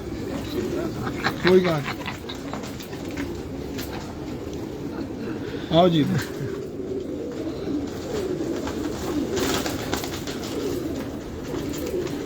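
Pigeons of champion bloodlines coo in a Karachi loft, a couple of low cooing calls rising above a steady background hum while someone speaks briefly.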